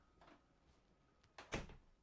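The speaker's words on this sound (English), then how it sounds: "Lisa, let's close this door and see what happens." A bathroom door inside a Keystone Springdale Classic Mini 1800BH travel trailer swings shut with a soft slide and a single firm thunk, close and fairly quiet, preceded by faint shuffling.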